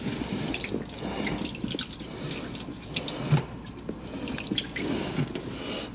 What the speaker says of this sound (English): Because now we're draining water into the bilge.